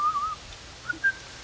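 A video game character whistles a short, innocent little tune, faint and alone, with a brief wavering phrase followed by two quick higher notes.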